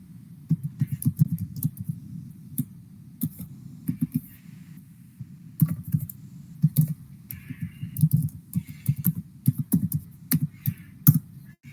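Details being entered on a computer keyboard, with close, uneven runs of key taps and clicks in quick bursts separated by short pauses.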